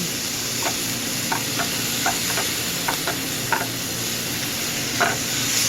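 Cheesesteak beef sizzles steadily on a hot griddle as a metal spatula chops it into chunks, the chops landing as sharp taps at uneven intervals over the constant frying hiss.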